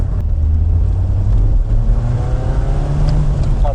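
Mercedes SLK car engine while driving, a continuous loud low rumble with rising and falling revs and steady road noise, close and without talk.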